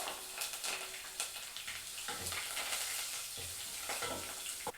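Chana dal, urad dal, red and green chillies, ginger and curry leaves sizzle in hot oil for masala uppittu, a close, crackling fry with bursts of spatter and stirring.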